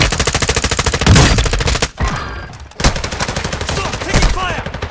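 Rapid automatic gunfire in Call of Duty, loud and close, with rhythmic bursts of shots broken by brief pauses and a heavy impact near the two-second mark.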